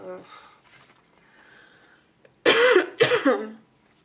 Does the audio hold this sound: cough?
yes